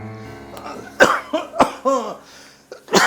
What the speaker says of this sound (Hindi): अरे कुछ नहीं, थोड़ी खांसी आ रही।